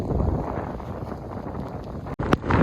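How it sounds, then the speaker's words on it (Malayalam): Strong wind gusting across open farm fields in a village near Tenkasi, a steady loud roar buffeting the microphone with a brief drop near the end. "അത്രയ്ക്ക് കാറ്റാണ് ഗൈസ്"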